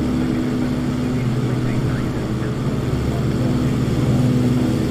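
Cessna 414 Chancellor twin piston engines droning steadily in a flight simulator, a continuous loud hum with a low tonal throb that holds throughout.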